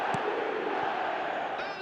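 Dense stadium crowd roar in a PES football match, a steady, broad wall of cheering voices that holds level throughout, fairly distant and filling the background.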